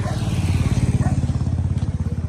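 Motorcycle engine idling close by during a Kathmandu-to-Mustang ride stop in Pokhara, a steady low rhythmic chug throughout with light clatter on top.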